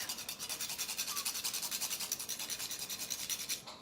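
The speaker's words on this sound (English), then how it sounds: "And then I have just a little rasp and some cinnamon." A small rasp grating cinnamon over cream in a kitchen, producing quick regular scraping strokes, about eight per second, crisp and close, continuing steadily before stopping abruptly at the end.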